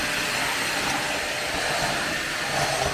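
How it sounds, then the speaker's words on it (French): A handheld vacuum cleaner runs steadily at close range, its bright whining hum unbroken and fairly loud throughout with no talk over it. "elle a un aspirateur dans les mains"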